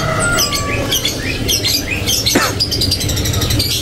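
White leopard canaries in a bird shop give off bright chirps and short squawking calls that overlap in a busy, continuous chatter, with a low steady background hum beneath.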